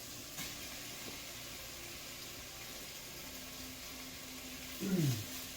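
Onion cooking in a pan makes a faint, steady sizzling hiss that continues evenly throughout, with a brief louder rustle near the end.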